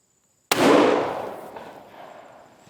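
A single loud rifle shot from a deer rifle being test-fired to check its sight-in, a sharp crack followed by a long, fading echo rolling away across open ground.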